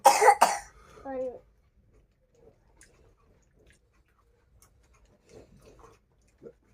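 A couple of sharp, loud coughs at the start followed by a throat-clearing rasp, then quiet with small scattered rustles and faint sounds, close to the microphone.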